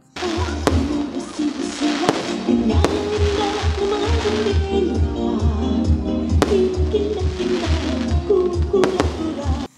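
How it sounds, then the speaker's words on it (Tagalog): Fireworks burst in a series of sharp booms and crackles, irregularly spaced, over a busy background of crowd noise and music at a Christmas lighting ceremony in Quezon City. "nagkaroon din ng fireworks display na sabay-sabay na pinanood"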